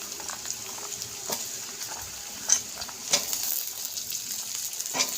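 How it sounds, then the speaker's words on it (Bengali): Potato pieces fry with already-browned onions in a pan for a snake gourd and fish vegetable curry, giving a soft steady sizzle broken by a few sharper clinks and scrapes as they are stirred; no talking. "আলুটাকে একটু ভালো করে ভেজে নেব।"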